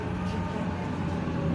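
A tram rides along its tracks, heard from inside as a steady, close, low rumble and hiss with no distinct clanks.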